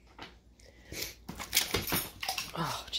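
A dog chews and crunches a rich rendered lard treat close by, irregular wet crunching and smacking bites of varying loudness, with a voice speaking briefly at one point.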